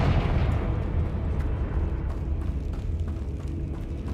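A Confringo fire spell explodes in the Hogwarts Legacy video game, a loud, dense blast with a sustained rumbling roar that fills the whole stretch and carries faint crackling bursts throughout, with no voices.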